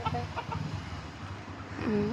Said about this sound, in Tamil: அது அம்மா கோழி, இது அப்பா கோழி.